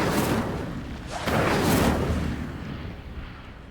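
A fire spell cast in the Hogwarts Legacy video game comes as a loud whooshing burst of flame that swells, peaks and then fades, heard on its own.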